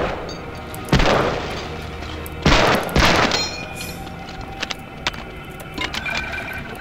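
Several sharp, loud gunshot bursts in the video game Medal of Honor: Allied Assault ring out at irregular intervals, with softer clicks and thuds between them over a steady low background.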